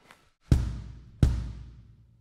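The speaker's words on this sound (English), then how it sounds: "This down here is called a kick drum. You hit it with your foot and it makes a sound." A kick drum is struck with the foot pedal, giving two deep, close booming thumps about 0.7 seconds apart, each ringing out and decaying, after a faint tap at the start.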